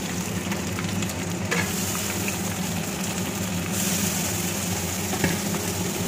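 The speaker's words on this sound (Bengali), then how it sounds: "একটু পেঁয়াজটা ভেজে নিই, ভালো করে একটু ভেজে নেব।" Onions frying in ghee with bay leaves in a pan, a dense, continuous close sizzle with occasional stirring clinks, steady and fairly loud throughout.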